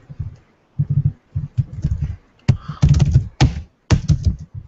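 Computer keyboard being typed on during a Ruby on Rails coding session, delivering close, loud bursts of key taps and thunks in irregular clusters with brief pauses between runs.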